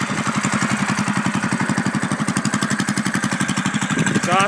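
A Predator 212 engine on a mini chopper idling close by, its exhaust thumping in a fast, steady, even pulse throughout with no talk.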